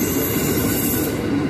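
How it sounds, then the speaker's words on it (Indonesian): Steady rumble and rolling noise heard from inside a carriage of the Progo long-distance passenger train as it runs out toward Prambanan station, a continuous low drone with a faint hiss on top. "Ini keretanya sudah jalan ya,"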